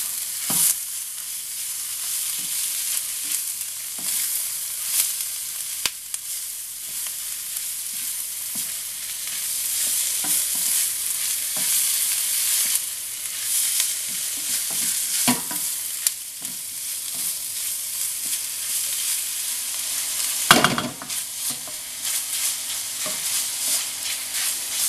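Beef and courgettes fry in a pan, giving a continuous bright sizzle for the whole stretch, with frequent clicks and scrapes of stirring and one sharper knock against the pan near the end.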